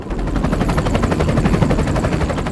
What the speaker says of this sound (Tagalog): sunod-sunod ng pambobomba ng mga helicopter gunship ng militar